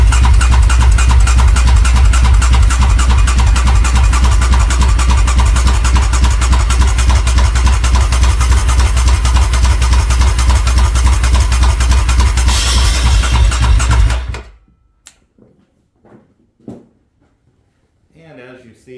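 A 740 cc Raptor ATV engine, with an air hose in the crankcase vent to prime the oil system, cranks and runs loud and close, with a steady rapid mechanical pulse, then cuts off abruptly, leaving quiet with a few faint knocks and a voice.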